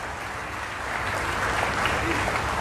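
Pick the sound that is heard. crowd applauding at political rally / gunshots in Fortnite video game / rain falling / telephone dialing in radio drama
crowd applauding at political rally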